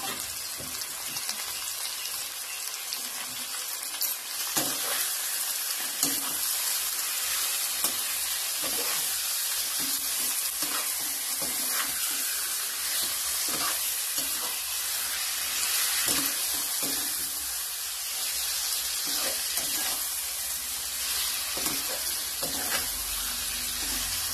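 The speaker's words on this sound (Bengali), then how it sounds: "এরপর আমরা ম্যারিনেট করা মাংসটা ওর মধ্যে দিয়ে দেবো। ঢেলে দিয়ে 2 থেকে 3 মিনিটের মধ্যে এটাকে নাড়বো।" Marinated chicken for chicken kosha sizzles steadily in a hot pan, with a dense frying hiss and scattered clicks and scrapes of stirring throughout, close and even in level, with no talking.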